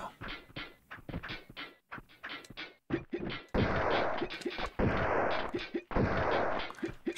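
Grenade launcher shots in the 1997 PS1 game Tomb Raider 2, a run of sharp booming bursts, some short and clipped, others long roaring blasts, loud and close with brief gaps between them.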